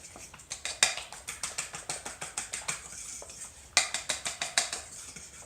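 Egg and flour whisked together in a bowl for a veal parmesan coating, making quick rhythmic clinks and scrapes in steady bursts, close up, with no talking.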